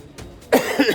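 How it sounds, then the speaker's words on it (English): A single close cough bursts out after a moment of quiet, followed by a short rasping tail. "I still got this bit of a cough."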